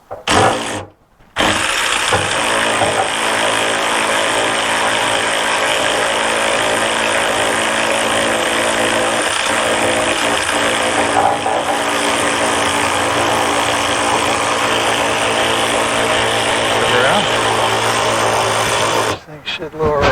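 Power tool running steadily while removing the gas tank bolts from a 1979 Triumph TR7 being stripped for parts, a loud continuous whir close by for most of the clip, with a brief pause near the start.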